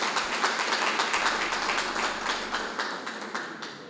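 An audience at a JCI U-Cesag ceremony in Senegal applauds, steady clapping from many hands filling the room and slowly tapering off.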